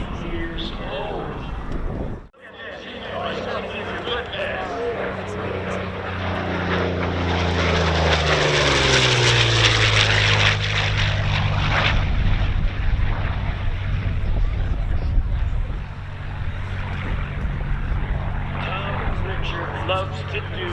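An 80-year-old World War II propeller aircraft makes a low pass at a World War II Weekend air show, its engine drone swelling loudly with falling pitch as it passes, then fading, with people talking throughout.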